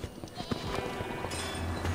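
A sheep bleats in the video game Minecraft Dungeons, a short, faint call set within a dense, steady game soundscape.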